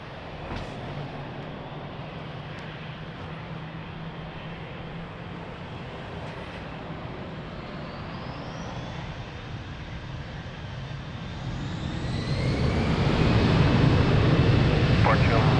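A jet airliner spools up for takeoff at Lisbon Airport. A steady engine roar builds over the last few seconds, with a rising whine. Radio chatter from air traffic control runs underneath.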